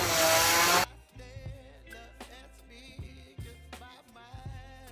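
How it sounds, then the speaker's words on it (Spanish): An electric mixer whirs loudly for under a second while beating cream filling for an Oreo cake, then cuts off. Scattered knocks and clunks of bowl and utensils follow, close and fairly quiet. "Vamos a poner la batidora. Vamos a batir por 2 o 3 minutitos"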